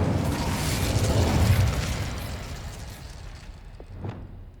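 Incendio fire spell cast in Hogwarts Legacy, a loud rushing burst of flame and crackle that swells for the first two seconds, then fades into a quieter tail with a couple of small pops near the end.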